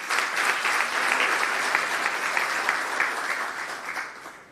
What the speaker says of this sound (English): would you clap hands for yourself?